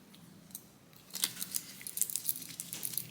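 A tubing cutter twists around a custom brake line for a 1973 Impala, giving faint, close scraping and clicking that grows into a busier run of small metallic ticks and rasps, with no voices.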